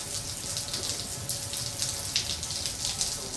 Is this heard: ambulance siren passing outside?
no